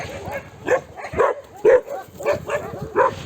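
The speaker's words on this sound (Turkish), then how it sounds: "Onlara doğru havlamaya başladılar." Dogs bark and yip in a quick, repeated series, fairly close, with no talking.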